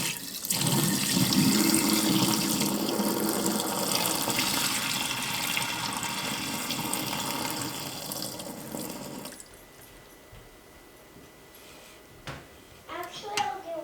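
Water runs from a tap in a kitchen while making Italian Montasio cheese, a steady rushing stream for several seconds before it shuts off, followed by a few light clanks.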